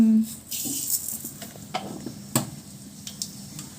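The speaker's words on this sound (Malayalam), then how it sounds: "കടുകിട്ട് കൊടുക്കട്ടെ" Mustard seeds spluttering in hot oil in a pan for tempering, heard as scattered sharp pops and crackles over a soft sizzle, fairly close.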